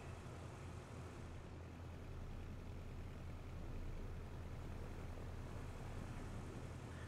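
Aero Vodochody Aero45 light twin-engine aircraft taxiing toward the apron in Microsoft Flight Simulator, producing a constant broadband engine and propeller drone, steady and moderately loud, with no talking.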